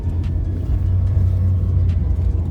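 A Chery Face car drives along a city street in Pelotas, heard from inside as a steady low engine and road rumble with slight swells of acceleration.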